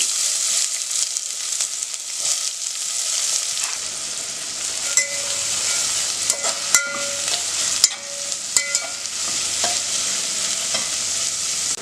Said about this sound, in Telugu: ఇది మనం కొంచెం గోల్డెన్ బ్రౌన్ వచ్చే వరకు వేయించుకోవాలి.